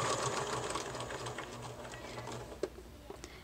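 A sewing machine stitches a bag seam in a short, steady burst of rapid needle chatter, close and fairly quiet, easing off near the end with a small click.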